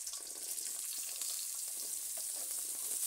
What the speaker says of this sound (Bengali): এবার এই তেলের মধ্যে আমি আলুগুলো দিয়ে দিচ্ছি।